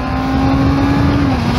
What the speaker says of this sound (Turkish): Motorumuzda orijinal egzoz var. O yüzden tatlı bir ses yok şu an